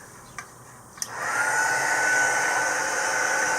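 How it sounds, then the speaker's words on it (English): A heat gun switches on after a couple of small clicks and settles into a steady loud blowing whoosh close by as it heats embossing powder, a continuous even roar with no voices. "So let's bring the heat gun."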